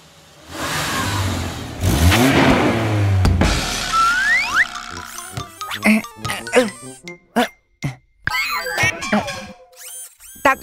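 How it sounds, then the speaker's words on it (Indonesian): Cartoon vehicle engine revving loudly in a children's garage animation, a roaring rev followed by bouncy boing effects and choppy mechanical bursts, mixed with animated voices speaking. "Ayo kita bersenang-senang dengan suara mesin yang keras."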